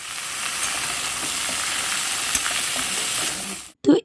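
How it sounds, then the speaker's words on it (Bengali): Pumpkin and pointed gourd sautéing in a pan for a mixed winter vegetable curry with fish head, a loud, dense, continuous sizzle close up that cuts off abruptly near the end before a brief knock. "দিয়ে এবার ভালো করে আবার কষে নেবো"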